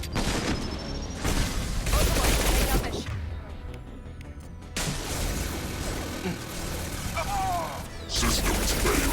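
Gunfire hammers a heavily armored mech in Mass Effect 2: loud sustained bursts of shots and metallic impacts that drop out into a quieter mechanical lull, then resume in heavy volleys near the end.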